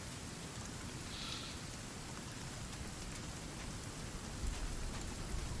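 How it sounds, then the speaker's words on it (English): Steady rain falls in the Sons of the Forest game, a dense continuous patter with no talk, growing slightly heavier toward the end. "And it's still raining."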